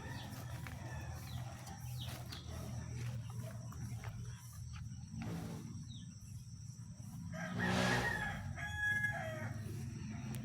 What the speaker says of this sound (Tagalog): Yung ating mga sisiw,